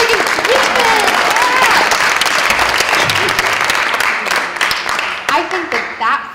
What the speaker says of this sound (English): applause for civic engagement!